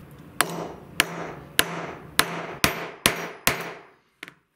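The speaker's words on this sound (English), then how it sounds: "now I'm gonna start really gently peening that over with my hammer" A steel hammer peens the top of steel stock sitting in a hole, striking seven sharp, evenly spaced blows, each ringing briefly, followed by a pause and a lighter double tap.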